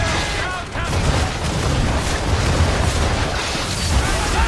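Ship cannon broadside in Assassin's Creed 3: a dense burst of booming, overlapping blasts rolling on for several seconds, loud and close, with voices under it.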